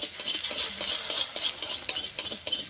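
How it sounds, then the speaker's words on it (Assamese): A spoon stirs an egg frying in a pan, giving rapid repeated scraping strokes over a soft background sizzle, close and fairly loud. "খন্তি নাই কাৰণে চামুচ দি লাৰিব লগা হৈছে।"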